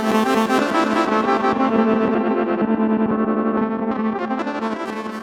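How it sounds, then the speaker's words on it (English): A dense melody resampled through a granular effect plays continuously with a shimmering, grainy texture, heavily effected and slightly distorted, thinning gradually toward the end. "resampled it with a granular effect"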